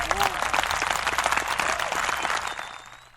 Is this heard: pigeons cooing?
no